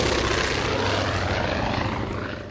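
Airplanes pass overhead at an outdoor memorial ceremony near an airport, their loud, steady engine roar filling the air and fading slightly toward the end, with no voices heard.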